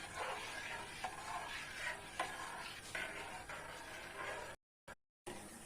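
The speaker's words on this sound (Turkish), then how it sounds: "Çorbam kaynayana kadar sürekli karıştıracağım." Bulama soup being stirred constantly in a pot on the stove, with a soft, continuous swishing and occasional light scrapes of the spoon against the pot under a low background hiss. The sound cuts out briefly near the end.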